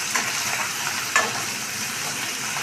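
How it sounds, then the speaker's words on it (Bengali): Potatoes being stirred in hot oil in a pan for a home biryani, beside fried onions, giving a steady close sizzle with a few scraping clinks of the spoon. "এদিকে আলুটা একটু নাড়িয়ে দিচ্ছে"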